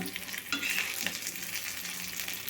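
Stuffed brinjals with Guntur chilli masala fry in a pan while a spatula mixes them, producing a steady close sizzle with a few light scrapes and clinks.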